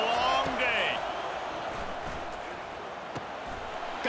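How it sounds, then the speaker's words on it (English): A packed stadium crowd at a college football game between Alabama and Oklahoma roars in a dense, loud, continuous wash, with a sharp whistle-like tone near the start and a few brief spikes. "This crowd, full throat, splitting the eardrums"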